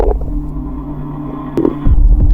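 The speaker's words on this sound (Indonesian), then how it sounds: "Perut aku bunyi" Low, gurgling rumble of a growling stomach, close and fairly loud, with a steady hum underneath and a brief squeak near the end.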